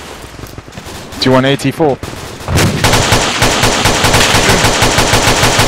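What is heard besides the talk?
gunfire and machine gun fire in a military video game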